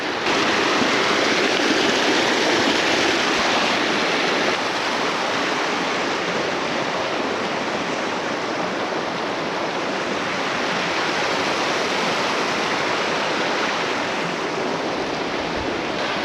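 A small stream rushes and trickles steadily nearby, a continuous, even wash of flowing water with no voices.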